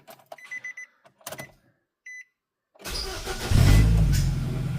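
A 2009 Nissan Versa with a 1.8 L engine cranks briefly after a few scattered clicks and beeps, then catches and starts, rising into a loud, steady idle close by.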